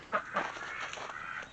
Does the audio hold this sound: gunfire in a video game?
no